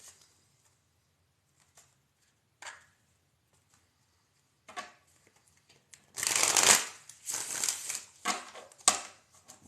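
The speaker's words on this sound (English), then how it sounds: "We're going to begin shuffling and get these cards moving." Tarot cards being shuffled: a few soft riffles at first, then a loud, dense burst of rapid flapping and riffling that continues in bursts near the mic.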